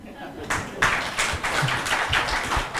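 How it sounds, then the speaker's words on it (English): Scattered clapping from a conference audience at an HR summit, starting sparse and building into a steady patter of many hands, fairly close and loud, with faint voices underneath. "Would it be possible for you to pep me up by clapping for me?"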